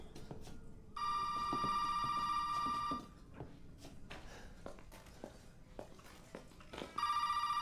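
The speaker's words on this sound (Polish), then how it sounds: "I teraz telefon dzwoni." A telephone rings in the video game Resident Evil 7, a loud electronic bell tone sounding in two bursts. A two-second ring is followed by a pause filled with faint footsteps and taps, then another ring begins.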